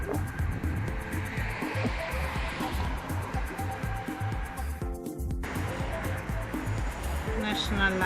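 Traffic passes along the Dambovita river in Bucharest, a steady wash of car noise and tire hiss from nearby vehicles going by, with a brief dip midway and a rising pass near the end.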